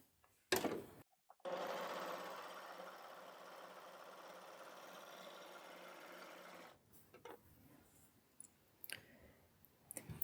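An overlocker serger runs steadily on tricky pointelle knit for about five seconds, a close mechanical whir, then stops and gives way to scattered clicks and handling noises.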